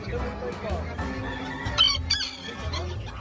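Small bantam chickens at a poultry show, several crowing and clucking in overlapping bursts close by, set against a busy hall background with faint voices.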